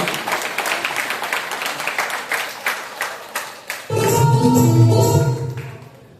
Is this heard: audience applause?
yes